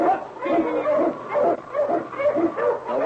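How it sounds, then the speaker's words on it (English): An Eskimo lead dog in an old-time radio drama set in the Yukon gives a rapid series of yelping barks, close and loud, repeated in an uneven rhythm over three seconds. "The wonder dog King, swiftest and strongest of Eskimo lead dogs"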